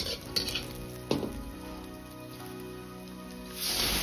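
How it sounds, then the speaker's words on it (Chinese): Minced pork stir-fried in a wok, cooked down until dry and lightly browned, sizzles steadily with occasional scrapes and clinks of the spatula against the pan, growing louder near the end. "肉末煸炒的时间稍微要长一点，一定要炒干多余的水分，炒出油脂"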